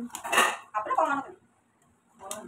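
Meat goes into spiced masala in a cooking pot: a few close metallic clanks and scrapes of utensils against the pot, in two short bursts separated by a quiet gap.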